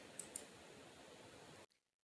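Two quick computer mouse clicks ring out close and crisp over a web form, then a faint third click after the low background hiss cuts off.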